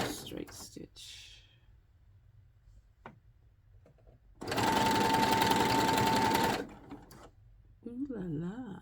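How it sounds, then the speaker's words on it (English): Sewing machine running a straight stitch on a dress, a single continuous buzzing run of about two seconds mid-clip, with quiet handling noises and brief speech before and after. "So we're just gonna go with this straight stitch."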